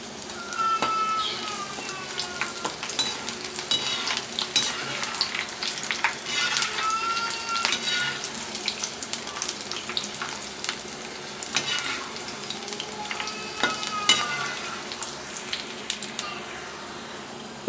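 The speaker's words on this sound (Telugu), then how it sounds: "ఇప్పుడు ఇదే ఆయిల్లో కొన్ని వేరుశనగ గుళ్ళు వేసి వేయించుకుంటున్నాను." Peanuts and three crushed garlic cloves frying in hot oil, a steady crackling sizzle with occasional stirring scrapes, close and continuous throughout with no talking.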